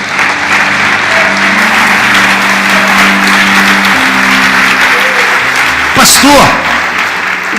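A church congregation applauds with steady, dense clapping throughout, loud and close, while a voice speaks over it.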